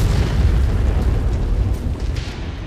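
A dense barrage of artillery explosions in the mech game MechWarrior 5, deep overlapping booms rolling continuously and loudly throughout, with no voices.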